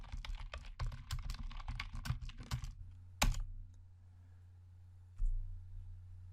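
Rapid keystrokes on a computer keyboard while a web address is entered, a close run of clicks for a few seconds, then a louder key press and one more isolated tap over a low hum.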